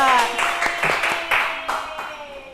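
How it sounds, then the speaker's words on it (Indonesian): Students in a classroom microteaching session give a group a short round of clapping, a few uneven bursts that soften toward the end, mixed with voices. "Tepuk tangan untuk kelompok 2"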